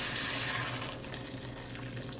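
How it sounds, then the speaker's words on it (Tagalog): Water pours in a steady rushing stream into a cooking pot, splashing close by for a couple of seconds with no voices. "maglalagay tayo dito ng tubig"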